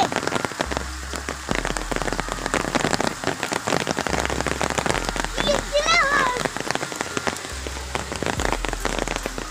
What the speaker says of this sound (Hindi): और अब ये बारिश हमारे पास पहुंच आई है।